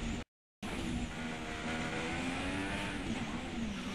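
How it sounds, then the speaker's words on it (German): An F1 2016 racing-game car brakes hard into a corner and loses grip, its loud, steady engine drone and tyre scrub running after a brief cut of silence near the start. "Ah, verrissen das Auto. Beim Anbremsen verrissen."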